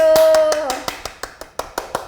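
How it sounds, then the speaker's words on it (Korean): At an award presentation, a short tone fades as a few people clap in a quick, steady rhythm, around ten sharp claps close by. "박수!"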